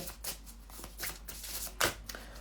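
Oracle cards being shuffled by hand for a reading, a close run of riffling, slapping bursts in an uneven rhythm with one sharper snap near the end, no voices.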